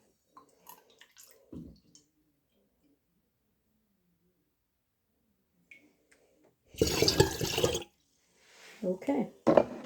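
Water poured into a jar while making up lab solutions, heard as one loud, splashy pour lasting about a second after quiet handling noises, followed by softer trickling and a few clinks.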